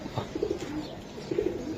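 Giribaz pigeons coo softly in a few low, rounded phrases, two main bursts separated by a short pause, fairly close against a quiet background.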